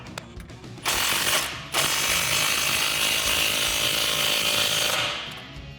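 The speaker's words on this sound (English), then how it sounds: "Then we can tighten it down with our 15mm deep socket and our impact." An impact wrench with a 15mm deep socket tightens an exhaust clamp on a Jeep Wrangler JL axle-back, rattling in a loud, steady hammering burst that briefly pauses, then runs for several seconds before winding down.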